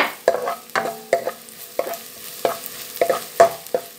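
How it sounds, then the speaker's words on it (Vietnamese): Minced ginger, garlic and scallion stir-fried in hot oil in a wok as the aromatic base for salted-fish fried rice: repeated scraping stir strokes in an irregular rhythm over a steady soft sizzle, close and clear with no talk. "Rồi dầu nóng thì là sẽ cho cái gừng băm, rồi một ít tỏi băm này, và một ít đậu hành. Mình xào cho nó thơm lên."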